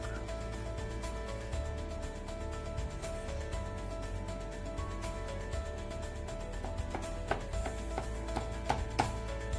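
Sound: cutting kothimbir vadi (coriander fritter) with a knife

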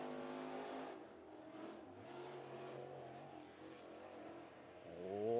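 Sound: crate late model race car driving on the speedway

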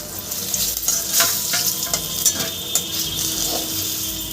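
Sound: katla fish pieces frying in oil

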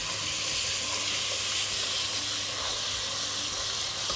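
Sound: minced garlic frying in pot

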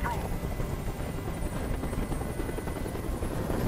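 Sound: helicopter in the video game Detroit: Become Human

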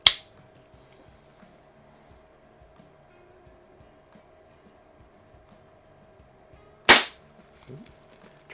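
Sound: Benjamin 132 air rifle shot

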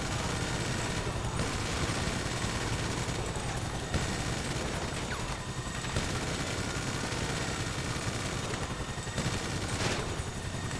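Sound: rapid gunfire in GTA 5 Online video game

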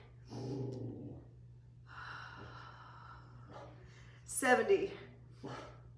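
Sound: dog barking

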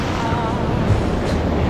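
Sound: ocean waves breaking on a beach

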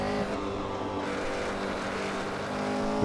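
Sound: 1968 Porsche 908 LH engine accelerating on Nürburgring

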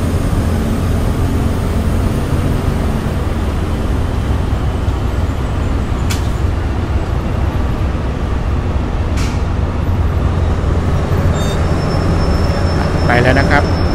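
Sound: train departing station

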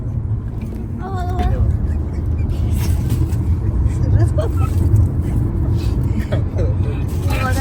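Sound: car driving on a highway

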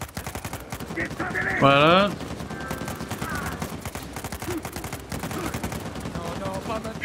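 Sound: gunfire in the video game Uncharted 4

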